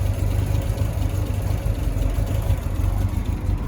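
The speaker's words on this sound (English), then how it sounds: "Ticks over at idle, it's very well tuned." A well-tuned 1976 Triumph TR6 convertible engine idling up close, with a steady low, even throb and a smooth rhythmic tick-over throughout.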